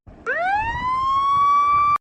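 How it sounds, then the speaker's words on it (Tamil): A police siren wails, rising sharply then holding a loud, steady high tone for about two seconds, fairly close. "அது கார் சவுண்ட் இல்ல, போலீஸ் வண்டி."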